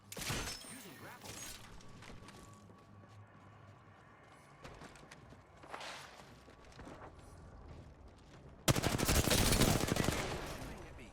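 Gunfire in Apex Legends: scattered, distant-sounding shots and bursts early on, then a loud, rapid stream of automatic fire close by toward the end, with some game voice or talk faintly mixed in.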